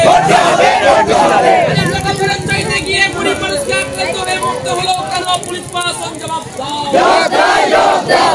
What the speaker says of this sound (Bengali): আর এরপরই বিক্ষোভে ফেটে পড়েন গ্রামের মানুষ।